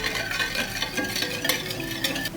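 Batter of egg and corn oil being stirred by hand in a bowl, a close, steady whisking and scraping that runs without pause and has no talk over it.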